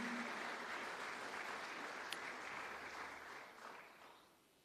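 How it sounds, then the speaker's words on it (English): Crowd applause at a tenth-anniversary community celebration, steady dense clapping from a sizable audience that carries evenly then fades out toward the end. "Round of applause, ladies and gentlemen, for Katie."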